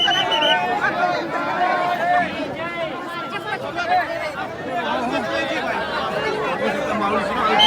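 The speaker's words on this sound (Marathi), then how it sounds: "खूप गर्दी आहे" Dense crowd chatter fills the air at a pilgrimage chariot procession, with many overlapping voices in a steady, loud babble all around and no single voice standing out.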